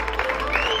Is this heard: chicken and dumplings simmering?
no